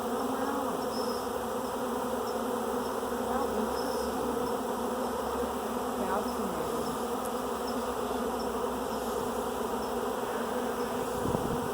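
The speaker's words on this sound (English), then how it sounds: "when they land and they put their abdomen in the air and they fan their wings, they're blowing pheromones up into the air to try to attract the rest of them in" A swarm of honeybees landing and fanning their wings as they march into a hive on a ranch, giving a steady, dense buzzing drone close by that lasts throughout with no voices.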